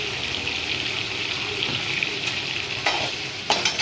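Chicken liver fries and sizzles in a pan with pepper powder, a steady close crackle and hiss that runs throughout, with scraping stirs and a few sharper clinks near the end.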